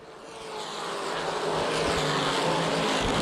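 CRA street stock race cars at Winchester Speedway roar past, engine noise swelling steadily louder into a sustained, close, full-throttle drone.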